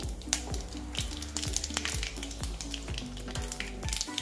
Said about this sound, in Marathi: आता त्यात आपण 1 छोटा चुटकीभर हिंग टाकू